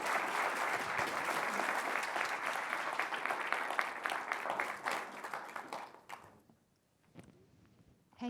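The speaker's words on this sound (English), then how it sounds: "let's give them a round of applause again" An audience applauds the panelists after a film and panel discussion at a garden library program, a full, lively round of clapping that holds for about six seconds before tapering off to near silence.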